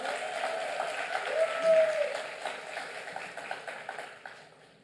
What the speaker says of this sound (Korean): 여러분 박수 크게 하시다